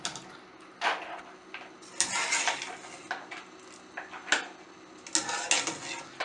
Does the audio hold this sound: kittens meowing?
no